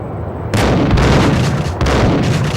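Heavy gunshots from the Max Payne video game, three or four loud close booming blasts in quick succession with ringing tails, no talk.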